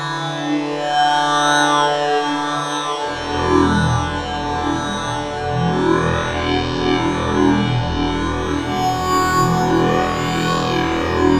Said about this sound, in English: there's an awful lot of reverb there